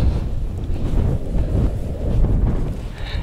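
Blizzard wind roars through the taiga forest in January, a loud, continuous rushing gust buffeting close by with no talking.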